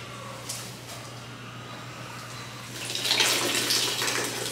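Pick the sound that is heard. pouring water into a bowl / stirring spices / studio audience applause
pouring water into a bowl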